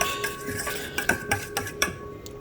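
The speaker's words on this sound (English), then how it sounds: "in the bowl with the hot water, just pour in the yeast, and then stir that around with a fork just to get it mixed up" A fork stirring yeast into hot water in a bowl, light rhythmic clinks and taps of metal against the bowl roughly every quarter second, close and distinct, with no voices.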